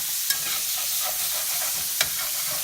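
Ground beef browning in a frying pan for a full-meal ramen, with a steady broad sizzle and scraping stirs throughout, plus two sharp clacks of the utensil against the pan; no talking.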